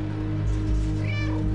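A cat in the video game Stray lets out a clear meow over a steady hum of game ambience and background music, close and distinct.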